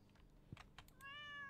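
Soft computer keyboard clicks tap out a few keystrokes, then a single clear cat meow from Stardew Valley 1.5 sounds close and steady to the end.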